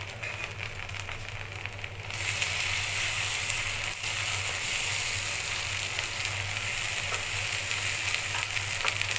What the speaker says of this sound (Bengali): এই পর্যায়ে দিয়ে দিব মরিচ বাটা।